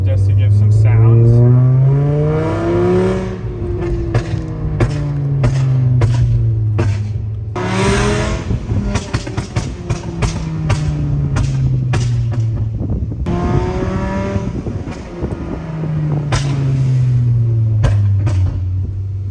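A tuned Volkswagen Golf of about 200 horsepower is driven hard. Its loud engine and exhaust rise repeatedly in pitch through the gears, with sharp pops and crackles between the pulls.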